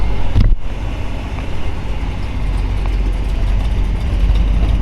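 A 1958 Chevrolet Impala hardtop mild custom with a 348 four-barrel V8 and Turbo 350 idles steadily, a loud continuous low rumble that holds even throughout, with one brief knock near the start.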